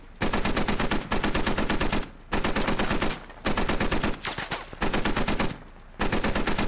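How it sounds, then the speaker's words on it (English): Long bursts of heavy automatic gunfire from an MRAP vehicle's turret gun in the military shooter game Squad, loud and close, firing in sustained volleys of roughly a second each with short pauses between. "The MRAP now returning fire."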